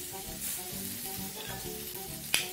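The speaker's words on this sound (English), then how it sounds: "all your peppers into your hot pan" Sweet peppers, including red pepper cut into fine julienne strips, sizzle steadily in a hot pan, a soft continuous frying hiss with faint stirring and one sharp brief clink near the end; no one speaks.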